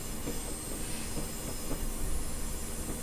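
A locomotive rolling along in Train Simulator 2021 on the West Highland Line, a steady rail rumble with faint rhythmic wheel clatter and a thin high squeal, even and continuous, with no voices.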